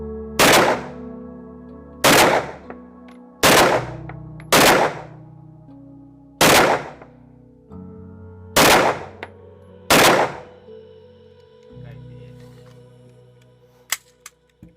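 Guns firing at a shooting range in Europe, with about eight loud, sharp shots spaced a second or two apart, each ringing briefly, then quieter handling clatter and one faint final crack.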